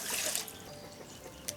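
Water splashes and trickles briefly at close range as dates are rinsed in a home kitchen, a short wet swish followed by faint dribbling.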